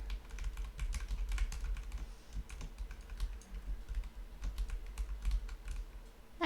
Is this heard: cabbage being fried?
no